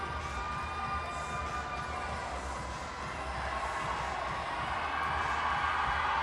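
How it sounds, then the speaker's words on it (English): Crowd at a girls' high school basketball game between Kidder County and Rugby erupts in loud, sustained cheering and shouting, a dense roar that holds steady and swells slightly toward the end. "The crowd erupts."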